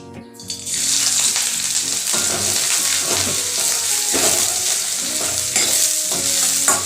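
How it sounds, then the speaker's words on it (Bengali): Chopped onions sizzle loudly in hot mustard oil in a wok, a continuous close frying hiss broken by repeated stirring scrapes. "কড়াইতে অল্প পরিমাণে সরষের তেল দিলাম। তেল ভালো মতন গরম হয়ে গেলে কুচনো পেঁয়াজ তেলের মধ্যেই দিয়ে দিলাম।"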